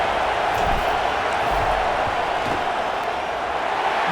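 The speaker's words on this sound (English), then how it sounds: "This crowd trying to do its part to get inside the kicker's head" A dense stadium crowd roars steadily ahead of a fourth-down field goal attempt in a college football video game, Oklahoma against Georgia, a broad continuous rumble of noise that holds level throughout.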